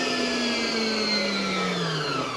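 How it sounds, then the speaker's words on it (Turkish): A Fakir stand mixer runs fast at its sixth speed, a loud, steady electric whine with a slightly falling pitch and a faint rattle as the machine shakes, heard close and alone. "Şu an makine biraz kendini sallıyor. Ama bayağı hızlı dönüyor."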